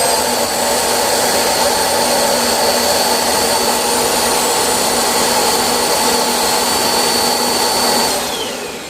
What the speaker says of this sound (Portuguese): ligando um aspirador de quase 600 watts, da pico aí maior, vai fazer muito barulho aqui